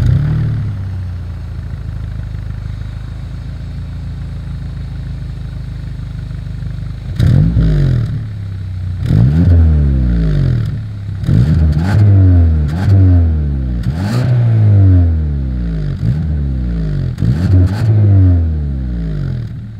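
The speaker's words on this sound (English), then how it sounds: "As always, here is that exhaust clip." A 2021 Hyundai Sonata N-Line sedan's engine idles steadily, then revs repeatedly, each burst rising and falling through the exhaust in a series of loud, rapid blips.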